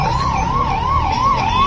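Ambulance siren wailing in a steady rising-and-falling cycle, loud and close on a flooded roadside during high water on the Narmada at Hoshangabad, with traffic noise underneath and no talk.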